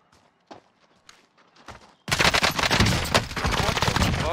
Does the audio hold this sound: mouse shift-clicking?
no